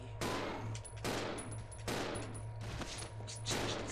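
Gunfire in the video game Resident Evil Zero HD Remastered: four loud, sharp shots spaced roughly a second apart, each with a ringing tail, over a low steady hum.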